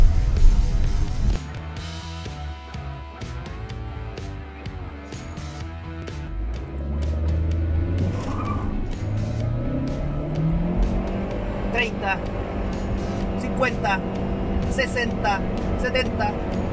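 A Kaiyi XY3 Pro in Sport version with a 1.5 turbo engine accelerates hard, its engine note building and rising steadily across the run beneath someone talking, fairly loud and close.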